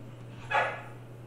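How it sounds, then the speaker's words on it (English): A brief dog bark rings out once, moderately close, over a steady low electrical hum. "you can hear my dogs barking"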